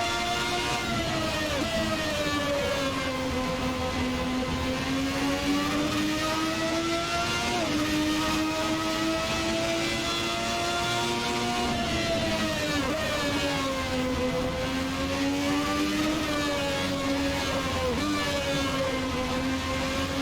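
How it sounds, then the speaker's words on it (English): Steady high-pitched whine of a 1991 Formula 1 car's V12 engine in Assetto Corsa, holding continuous near-constant revs with brief dips and climbs as gears shift, loud and close with no talk over it. "I think it's a V12."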